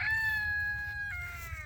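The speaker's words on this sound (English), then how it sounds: "Hear that rooster in the background?" A rooster crows once in a free-range chicken area at a permaculture site, a single drawn-out call heard faintly at a distance over low background rumble.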